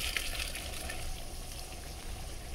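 Beef and potato curry fries in a pan with a steady, dense sizzle that holds constant for a few seconds, close and moderately loud with no voices.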